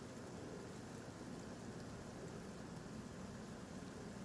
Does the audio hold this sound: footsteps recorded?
no